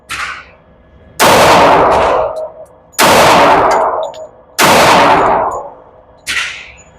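Sig Sauer xTen 10mm pistol fired at an outdoor range, four loud, sharp shots about a second and a half apart, each followed by a long ringing decay, with no talk.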